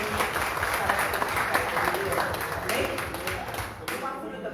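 A church congregation claps together in sustained applause, a dense steady wash of hands that holds at an even level with voices mixed in, easing slightly near the end.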